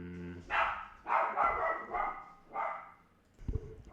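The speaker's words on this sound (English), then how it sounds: "dog is barking on everyone outside" A dog barks outside in a series of about four or five separate barks, fairly distant and muffled, followed by a short low thump.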